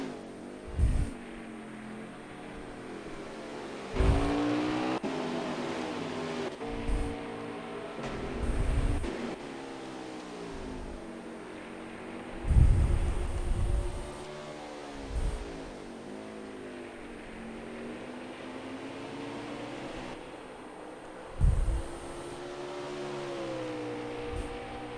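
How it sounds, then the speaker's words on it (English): Chevrolet Camaro Xfinity Series stock car racing at Road America, engine revving and downshifting through turns, with several loud passing roars over a steady distant drone of other cars. "Number 9 car, running great today at Road America."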